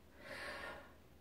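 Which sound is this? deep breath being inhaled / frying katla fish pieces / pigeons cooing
deep breath being inhaled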